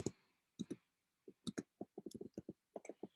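Someone types on a keyboard in a quiet room, producing a faint, irregular run of separate clicking keystrokes with short pauses between bursts.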